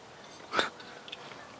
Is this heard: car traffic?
no